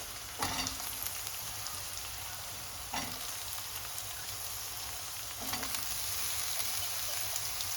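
Chopped snake gourd (padwal) sautéing in hot oil with curry leaves, a steady close sizzle broken by a few sharper bursts of stirring, with no talk.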